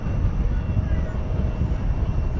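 Fiji Airways Airbus A350-900 at DFW airport at night, a steady low jet engine rumble heard from a distance, continuous and fairly loud, with a faint voice mixed in.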